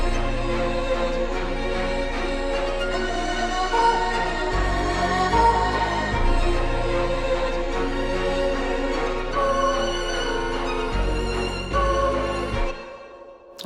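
A dark orchestral sample with reverb and EQ effects plays as a dense, ambient layered texture with steady low pulses and sustained tones, ending in a fade.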